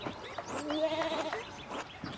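Sheep bleat in the video game Pentiment, a single soft, wavering baa heard faintly and alone in a quiet scene.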